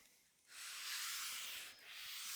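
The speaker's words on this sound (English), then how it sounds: "Then I like going over it like this with just a piece of sandpaper." Sandpaper rubbed by hand along the edges of a wooden butcherblock countertop, a steady close scratchy hiss with a brief dip midway, no talking.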